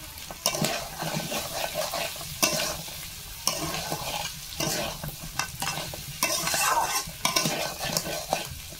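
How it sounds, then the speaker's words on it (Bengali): Crab fries in a pan while being stirred, giving a steady close sizzle broken by repeated scraping strokes of a spatula against the metal at an irregular rhythm, with no talking. "আমার কাঁকড়াটা সুন্দর ভাজা হয়ে গেছে, সুন্দরভাবে লাল হয়ে গেছে।"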